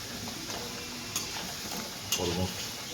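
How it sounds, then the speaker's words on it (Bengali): Potatoes deep-frying in hot oil for an alu phoolkopi curry give a steady close sizzling hiss throughout, with a couple of brief clinks partway through. "আলুগুলোকে একদম লাল লাল করে ভেজে নিতে হবে।"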